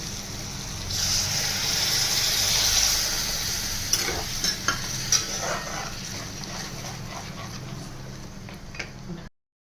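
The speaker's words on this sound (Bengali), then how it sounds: "এবার আমি গরম জল দিয়ে দেবো।" Hot water poured into a pan of frying besan paneer masala raises a broad, steady sizzling hiss that swells and then fades. Scraping stir strokes and soft clacks of a spoon against the pan follow, close and without any talk.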